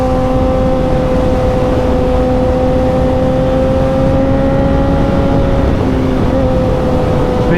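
Motorcycle engine droning steadily at cruising speed on a scenic road between Oban and Glasgow, with a loud, constant hum and strong wind rush throughout and a brief dip in pitch near the end.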